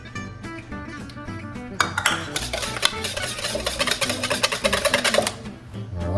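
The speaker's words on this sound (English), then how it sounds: "Whisk them up. Drop another yolk in there. Whisk it up." Egg yolks whisked in a bowl for a cheese soufflé, a rapid close clinking of whisk against bowl that starts softly, then turns loud and busy before easing off.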